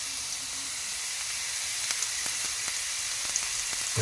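Curry leaves dropped into hot oil while making egg bajji give a steady high hiss and sizzle with scattered small crackles and pops, moderately quiet and close, with no voices.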